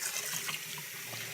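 Water runs from a tap while a Yorkie is rinsed during a bath, a close, steady splashing stream with uneven gurgles as it hits fur and basin, no talking.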